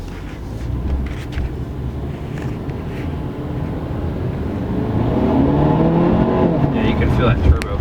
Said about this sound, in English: Feel that turbo kick in.